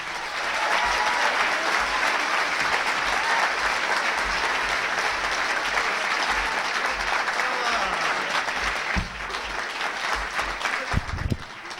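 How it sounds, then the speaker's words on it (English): A comedy club audience applauds a stand-up comedian with loud, sustained clapping that fades near the end as a few louder thumps come through. "put your hands together for Sid Koop"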